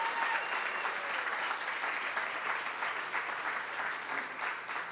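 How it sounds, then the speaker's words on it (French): Sustained applause from the audience at a fashion-marketing final project event, honoring the organizing committee; dense, steady clapping fills the room throughout at even loudness. "une grande main d'applaudissements pour tout le comité organisateur"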